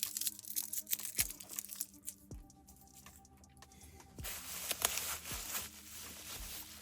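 Plastic bag packaging is crinkled and torn open around the barrel of a T/C Contender pistol chambered in 30 Herrett. The crackling and rustling is fairly quiet and close, with several sharp crinkles and a short lull midway.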